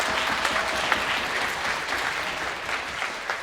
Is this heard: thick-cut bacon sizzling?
no